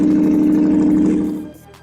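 A 1990s car engine holding a loud, strong steady note close by, then dropping away abruptly as the revs fall off.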